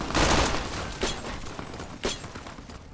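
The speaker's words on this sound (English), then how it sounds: "Gonna use the MPK, which I mod out a weapon I just picked up based on one of my favorite real-life submachine guns." Submachine gun fire in the Fallout New Vegas video game: a loud rattling burst at the start, then two short sharp shots about a second apart, with a brief ringing tone overhead.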